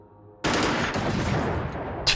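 Sustained burst of rapid gunfire from the Xenonauts video game, a loud dense rattle of shots starting abruptly and continuing for well over a second, with a sharp extra crack near the end.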